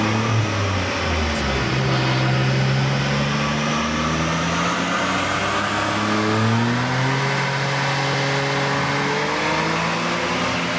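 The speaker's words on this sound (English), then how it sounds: "First run, we're just doing a pull in third to see if it'll get the revs up." Suzuki Cappuccino engine on a dyno in third gear, making a continuous strained pull whose pitch climbs steadily, eases back, then rises again through repeated rev sweeps, loud and close with no talk.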